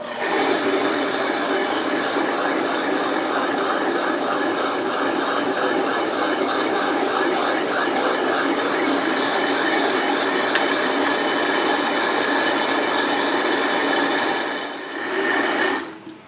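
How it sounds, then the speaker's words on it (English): A blender whirs steadily, blending konjac gum into water, a loud continuous motor drone lasting about fourteen seconds before winding down, with a brief final burst at the end and no talking. "I'm going to put this right into my water, and I'm going to blend it for maybe 30 seconds to a minute"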